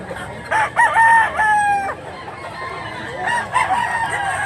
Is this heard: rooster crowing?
yes